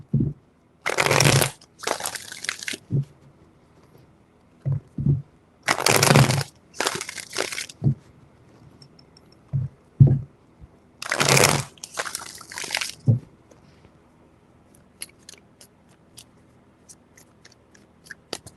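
Tarot cards are shuffled in three distinct bursts of crisp, riffling swishes, each a second or two long, close and clear against near silence, with light tapping and handling noises between and after.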